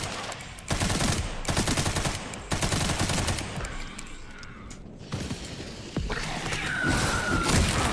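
Submachine gun fire in Resident Evil 9 comes as several loud, rapid automatic bursts separated by short pauses, with a harsher, longer burst near the end, all heard close up without talk.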